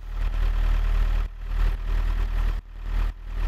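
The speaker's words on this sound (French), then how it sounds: "Il est plus bruyant que le moteur du Transit." An Iveco Daily 35-8 direct-injection diesel van engine idles steadily with a low, throbbing rumble, dipping briefly twice before settling back to the same even drone.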